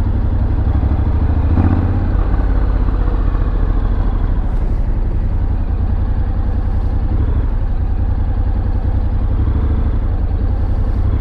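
A motorcycle engine drones loud and close on a short night ride, a steady rumbling roar that runs without a break, with no talking.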